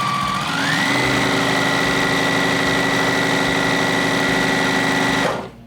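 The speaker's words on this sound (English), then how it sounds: "I'm going to sew this into a tube" A sewing machine stitches fabric into a tube in one loud, continuous run close by, its motor holding a steady whine for several seconds before cutting off abruptly.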